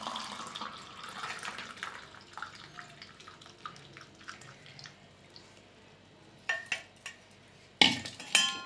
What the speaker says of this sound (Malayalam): ഇപ്പം നമ്മുടെ ടോണർ നമുക്ക് ഇതിലേക്ക് ഒഴിക്കാം